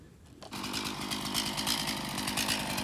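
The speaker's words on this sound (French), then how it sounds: "La tronçonneuse est prête, on y va." A small chainsaw, fueled and warmed up for pruning pear and apple trees, starts suddenly and then runs loud and close at a steady high-revving buzz with a rough rhythmic engine pulse.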